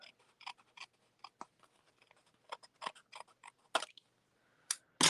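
Paper being trimmed for a handmade Stampin' Up! sympathy card, heard as a string of short, crisp snips and cuts that come at an uneven pace, close and quiet, with no talking.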